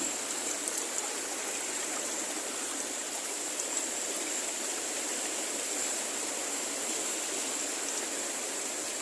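River water runs steadily in a rushing hiss by a riverbank, loud and unbroken for the whole stretch, with no speech.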